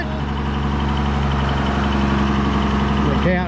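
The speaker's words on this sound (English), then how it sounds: "I'm gonna try out the tractor there" An antique Ford tractor engine runs at a steady, loud idle, a continuous low rumble throughout with a brief higher warble near the end.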